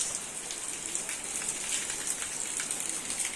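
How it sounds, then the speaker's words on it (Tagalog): Rain falling outside a house under a dark sky, heard from indoors as a steady, even hiss of drops on surfaces with no voices. "Ulan, dilim ang langit guys."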